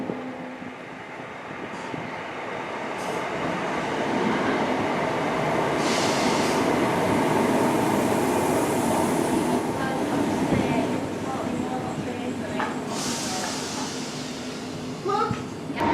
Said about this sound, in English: our train should be arriving now to pick us up